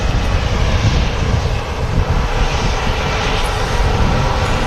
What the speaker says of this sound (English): a Saudi 787-10 Dreamliner on short final into Manchester Airport